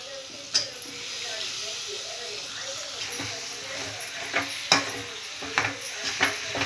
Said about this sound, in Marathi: सर्व भाज्या आता छान मिक्स करून घेतलेल्या आहेत